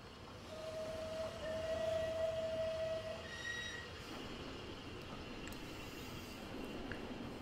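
A Train Simulator 2020 steam locomotive, Merchant Navy Clan Line on the Paignton to Kingswear line, rumbles along steadily with a sustained whistle-like tone early on, fairly quiet and without voices.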